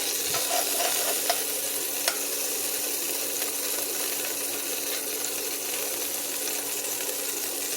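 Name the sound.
homemade beef tallow sizzling in a pan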